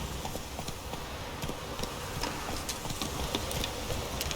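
Roach, Geralt's horse in The Witcher 3: Wild Hunt, trots steadily, hooves clip-clopping in a quick, even rhythm over a low rumble of ambient noise, close and continuous with no speech.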